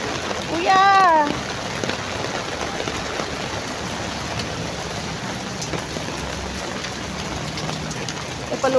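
Heavy rain pours steadily onto a road, a broad even hiss with a brief vehicle horn-like tone near the start; the wash continues unbroken throughout.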